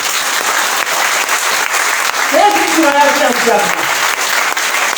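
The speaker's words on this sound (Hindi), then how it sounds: "परमेश्वर के लिए जोरदार ताली होनी चाहिए इस बात के ऊपर" A church congregation bursts into loud, sustained applause during a Hindi sermon, a dense crowd clapping that swells and fades. A preacher's voice carries on over the clapping.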